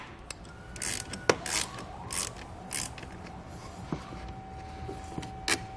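A ratchet wrench works a 13mm nut off a battery terminal on a 2017 GMC Canyon, giving a few separate clicking bursts and sharp metallic ticks spread across the stretch, close by with no talking.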